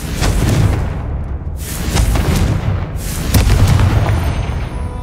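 Confringo spell explosions in the game Hogwarts Legacy, repeated loud booming blasts with crackling bursts in close succession, dense and near.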